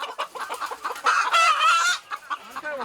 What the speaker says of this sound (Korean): 위쪽 농장에선 다른 품종의 닭을 키운다고 하는데요